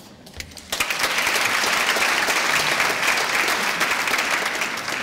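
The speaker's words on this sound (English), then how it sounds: "we're also applauding for someone else" After a short lull, the audience at a graduation ceremony breaks into loud, sustained applause, a dense wash of many hands clapping close by that holds steady to the end.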